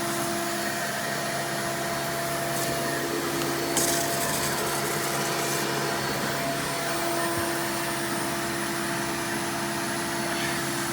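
A Hoover Elite 350 canister vacuum cleaner runs continuously with its crevice tool attached, a steady close motor whine and airflow roar with a brief suction change partway through.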